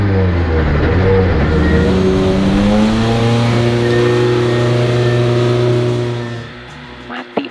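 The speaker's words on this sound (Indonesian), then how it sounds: "Coba starter lagi." A Mitsubishi Xpander AP4 rally car engine runs and revs loudly up close, a sustained droning roar with rising pitch sweeps, then cuts out near the end leaving a few faint knocks.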